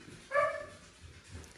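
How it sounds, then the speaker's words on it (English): Puppies play-chasing an old female dog give one short, high, clear yelp near the start. It is moderately loud against a quiet indoor background, followed by faint low rustling. "the little puppies are chasing the old lady dog, and decided as soon as mommy hit record that it was time to get loud and noisy"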